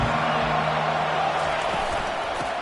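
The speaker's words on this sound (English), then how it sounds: "This crowd bringing the energy and noise early." Football stadium crowd cheering, a loud, dense and steady roar of many voices that fills the whole short stretch without a break.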